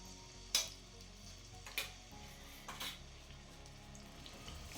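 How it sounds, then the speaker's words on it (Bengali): Ginger garlic paste frying in oil in a wok over a medium-low flame gives a steady, faint sizzle, broken by three sharp clinks of a spoon against the pan. "মিডিয়াম টু লো ফ্লেমে এই জিঞ্জার আর গার্লিকটাকে ভালো করে ভেজে নিতে হবে"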